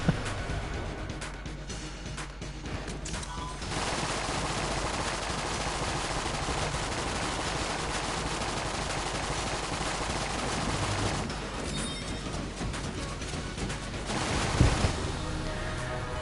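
Dense, continuous rapid-fire gunfire from weapons in the roguelike video game Enter the Gungeon, including a makeshift cannon and scatter shot, rattles on almost without pause, with a brief lull and a sharper blast near the end.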